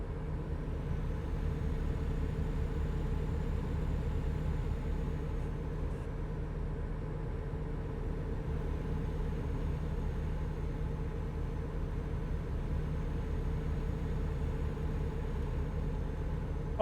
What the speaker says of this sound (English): Enjoying the thrumming of the engine a bit too much.